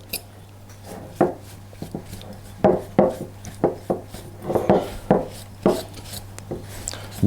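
Cubed unsalted butter being mixed into flour in a bowl, a series of irregular knocks and scrapes of a utensil against the bowl, close and fairly loud, without talk.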